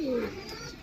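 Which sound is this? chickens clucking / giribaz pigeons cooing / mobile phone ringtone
giribaz pigeons cooing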